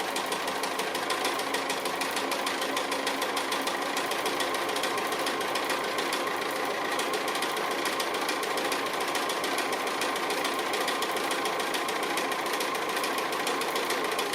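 A sewing machine stitches braid onto a button pin cushion, a constant close-up motor hum with fast rhythmic needle chatter running without pause throughout, no voices.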